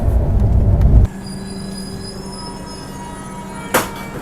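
Jharkhand Swarna Jayanti Express train running at about 110 km/h: a loud, dense low rumble of wheels on rail for the first second, then a steadier hum with whining tones and a brief squeal near the end.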